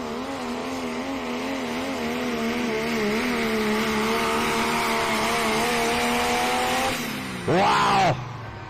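A pulling truck's engine roars loud and close at a truck and tractor pull in Lufkin, Texas, a sustained wavering drone that ends in a sharp rising and falling rev burst.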